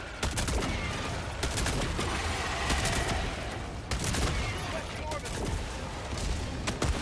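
Dense, continuous gunfire and explosive bursts from weapons in Helldivers 2 on a Helldive difficulty 9 mission, including the Eruptor, rattling loudly and steadily throughout with sharp blasts, while voices talk over the battle.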